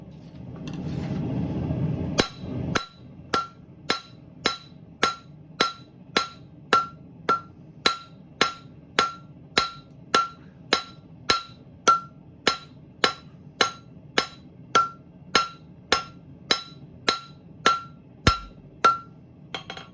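A steady run of sharp, ringing hammer strikes on hot metal at a blacksmith's forge, evenly paced about one per second, loud and close, with a brief rougher scraping noise at the start.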